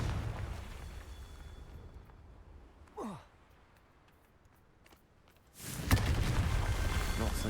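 A Confringo spell explosion in Hogwarts Legacy: a quiet whooshing cast, then a sudden blast that swells into a loud, sustained roaring burst of fiery debris and rumble.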